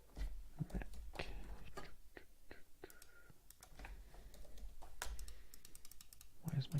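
Typing on a computer keyboard during a live coding session, irregular bursts of light clicking keystrokes up close, with brief pauses between runs and no speech over it.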